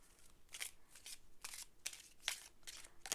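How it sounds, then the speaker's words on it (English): Tarot cards being shuffled close to the microphone in a series of quick riffling bursts, soft and papery, about six strokes with brief gaps and no speech. "I shuffle normally when I'm not on camera"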